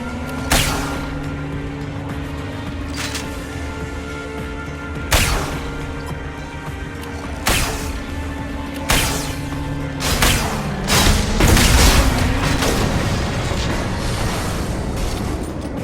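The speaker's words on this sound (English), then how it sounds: "Firing a high impact shot." Gunfire in the Mass Effect 2 video game: a series of sharp, loud high-impact weapon shots spaced a couple of seconds apart over a steady low ambient hum, with a denser burst of impacts near the end.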